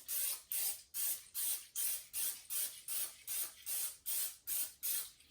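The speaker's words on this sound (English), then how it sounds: "I'm just going to use cooking spray. So again, I'm going to spray that over the sink." Cooking spray hisses from a can into a baking pan over a sink in a dozen short, evenly spaced bursts, each a bright airy spurt, close and steady, with no talking.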